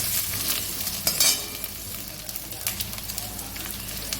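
Drumstick stalks and pumpkin fry in a pan. There is a close, bright sizzle, and a few louder scrapes and clatters from stirring break in near the start. No one speaks.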